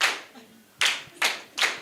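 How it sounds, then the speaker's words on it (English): An audience at a feminist philanthropy conference claps in unison, with three or four sharp, loud group claps spaced roughly evenly about a third of a second apart. "I want you to give yourselves 3 hearty claps."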